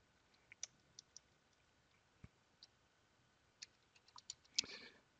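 Keys tapped on a computer keyboard, sparse faint clicks spread irregularly, ending in a short quick cluster, very quiet and close with no voices.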